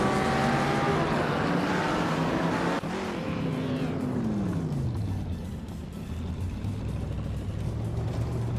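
Race car engines in a racing video game drone loudly and continuously, the pitch sliding down as a car sweeps past, then settling into a lower steady roar.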